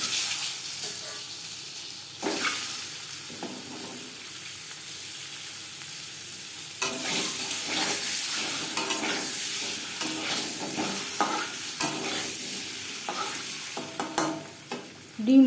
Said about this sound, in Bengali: ডিম ভেজে নেব।